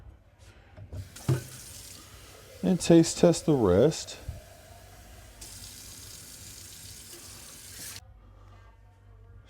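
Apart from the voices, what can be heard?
water running from a sink tap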